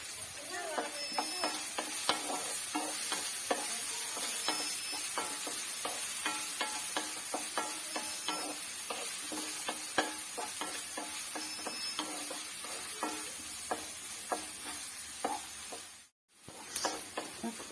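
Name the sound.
onion and coconut pieces sautéing and stirred in a pan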